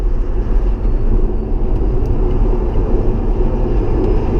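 A Tesla accelerates down a race track straight, its motor and road noise a loud, steady rumble that stays constant the whole time, with a faint rising whine coming through near the middle.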